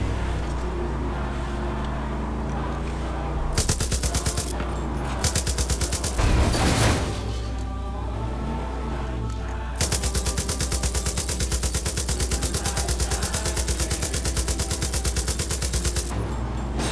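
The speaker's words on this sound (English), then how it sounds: "I kind of like this gun sound though. 50 cal?" A .50 caliber machine gun fires in a video game, in sustained rapid bursts with brief gaps between them, loud and close, with engine noise from a game vehicle underneath.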